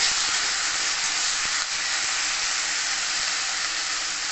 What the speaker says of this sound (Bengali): জল ঝরিয়ে দিয়ে এটা ভালো করে নেড়ে চেড়ে 2 থেকে 3 মিনিট ভেজে নেব।